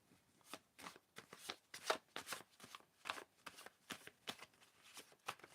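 Playing cards are shuffled by hand in a steady run of quick riffling bursts, close and clear, with no talking over them.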